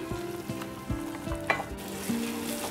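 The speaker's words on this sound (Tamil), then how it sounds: "இப்போ இந்த அரைச்ச மசாலா போட்டு நம்ம நல்லா இப்போ சுருளை கிண்டி இருக்கோம்" Ground masala paste frying in a pan for tomato kurma while it is stirred, a steady close sizzle with several soft thuds and scrapes of the spoon.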